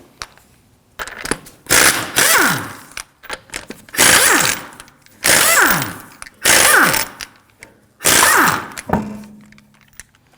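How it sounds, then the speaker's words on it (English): A 19mm socket on an impact gun spins lug nuts off a 2013-2015 Subaru XV Crosstrek wheel, giving five loud, close bursts of hammering rattle, each winding down and separated by short pauses. "To remove the wheel, we're going to use a 19mm socket"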